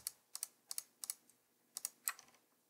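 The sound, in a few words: command-clicking on a computer keyboard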